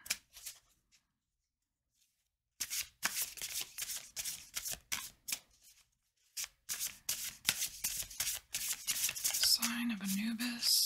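Tarot cards are shuffled by hand in bursts of crisp riffling and flicking, close and fairly loud, after a brief quiet stretch, with a soft tonal hum near the end.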